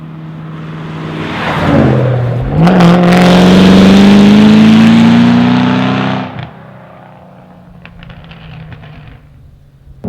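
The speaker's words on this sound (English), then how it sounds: "It is a catless X-pipe with Flowmaster Outlaws out the back, and it absolutely sounds beastly." A 2010 Shelby GT500 Mustang with a catless X-pipe and Flowmaster Outlaw exhaust revs up hard, its deep, loud, close engine note climbing steadily for several seconds before cutting off and settling into a rumbling idle.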